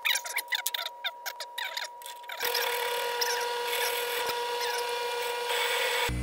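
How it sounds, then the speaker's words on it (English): A South Bend metal lathe turns down a bolt toward a 5/8 arbor. A few sharp clicks come first, then a steady, moderately loud cutting whir with a constant tone runs to the end. "I will first take this bolt and we'll turn it down to a 5/8 arbor with a 1/2 inch driving end."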